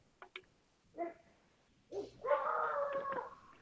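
Outside dogs bark in a few short, separate yaps, then break into a longer howling bark, heard at moderate distance with no talking.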